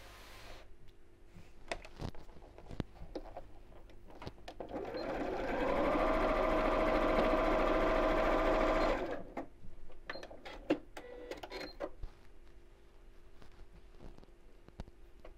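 A sewing machine stitches straight across the corner of a quilted fabric gift bag, a steady whirring run of about four seconds between quieter fabric handling, clicks and small bumps, close and clear with no voices.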